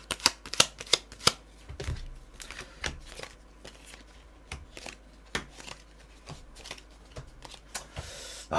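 Tarot cards being shuffled and drawn, with a run of crisp snapping riffles and flicks followed by softer scattered card slides and taps, close and fairly loud, with no talking.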